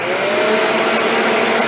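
A Shark Apex vacuum cleaner with its wand attached runs at a loud, steady whine and rushing airflow, close and unbroken throughout.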